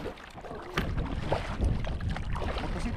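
A packraft is paddled into a headwind on a lake: soft, irregular paddle splashes and water swishes close by, mixed with gusty wind buffeting the microphone.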